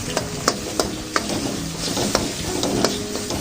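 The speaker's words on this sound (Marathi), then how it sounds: "हळद टाकते, तिखट टाकते, चमच्याने चांगलं मिक्स करून घेते।" A spoon stirs chilli paste, turmeric and chilli powder for a Wakat fish curry, giving repeated sharp scraping clicks against the pot in an irregular rhythm, close and fairly loud, with no talk.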